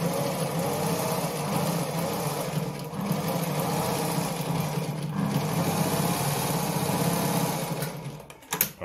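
A Naumann model 70 sewing machine runs a zigzag stitch with a steady, close, mechanical whirring hum, then stops abruptly at the end.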